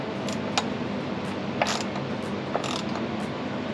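A ratchet snugging the oil drain valve on a GMC/Chevy LM2 3.0 diesel engine gives a few sparse, short clicks against a steady background hum.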